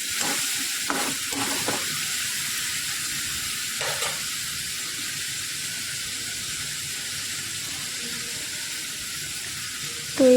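Tomato puree is stirred into fried onions in a hot pan for an egg and spinach dish, giving a steady, close hissing sizzle with a few brief scrapes and knocks of the spatula and a sharper clink at the end.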